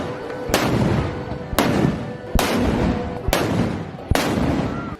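Five loud, booming cannon blasts go off one after another at roughly one-second intervals, each followed by a rumbling echo and faint crowd noise.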